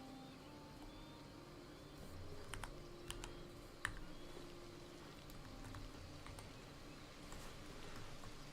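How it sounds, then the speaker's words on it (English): Computer keyboard keys click in short, irregular bursts of faint, close taps against a low background hum. "I'm glad that I still have my page up and page down keys on this keyboard"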